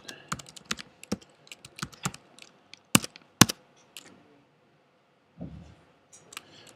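Keys clatter on a computer keyboard in bursts of quick, uneven strokes with short pauses, close and fairly loud; a couple of sharper, heavier key presses stand out in the middle.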